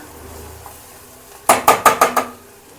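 A spoon scrapes and clanks against a pan while cluster bean fry is stirred. Five sharp metallic knocks come in quick, even succession after a quiet stretch, close and fairly loud.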